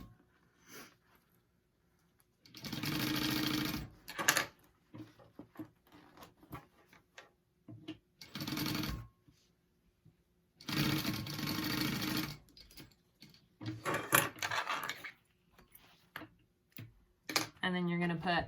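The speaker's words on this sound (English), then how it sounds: "I'm gonna baste that in place." A sewing machine basting fabric pieces together runs in several short, loud bursts of rapid stitching, separated by quiet pauses with small clicks and handling sounds.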